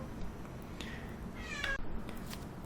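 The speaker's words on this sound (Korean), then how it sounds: "하지 말라고 우리 고양이도 애용애용거리잖아" A domestic cat meows once, a short rising cry rising above a steady background hiss, fairly close and moderately loud, with no talking.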